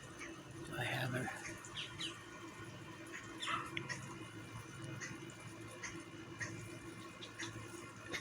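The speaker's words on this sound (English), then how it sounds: "There's two woodpeckers here, and there's going to be a woodpecker fight, I think." Two woodpeckers call in the open, with a few short chirping cries, one near the start and another midway, fairly faint against a soft outdoor background.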